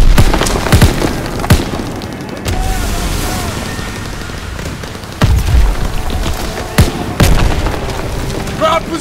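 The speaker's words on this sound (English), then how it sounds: "Grenade" Grenade explosion in the Call of Duty World War 2 game at Remagen on the Rhine, heavy booms and scattered gunfire over continuous battle rumble, with shouted voices in the mix.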